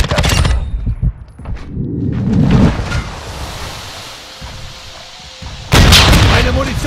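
Booming bursts of gunfire and explosions from Call of Duty Modern Warfare 2 multiplayer, heavy blasts at the start and again near the end with quieter rumbling in between, while a radio voice speaks.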